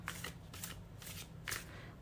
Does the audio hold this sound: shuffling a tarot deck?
yes